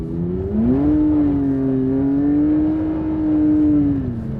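A Porsche 911 GT3 accelerates hard on a cold day with its exhaust valves open, the engine note rising, holding a loud sustained howl, then easing slightly, close and alone.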